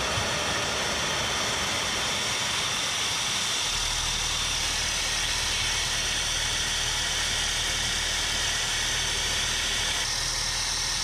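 A small homemade gas turbine jet engine roars steadily with a broad hissing whine, and a low rumbling drone joins partway through and continues.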